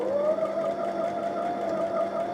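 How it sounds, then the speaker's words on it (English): A Brother XM2701 sewing machine runs steadily while stitching the bar tacks at the start of a buttonhole, a close, continuous mechanical whir with no pauses and no talking. "Now the machine is going to do a couple of bar tacks at the beginning."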